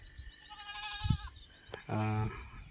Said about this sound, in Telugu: ఆ మేకలు కూడా ఇతను వాయిస్ను గుర్తుపెట్టి ఇక్కడ నుంచి అరుస్తున్నారు చూడండి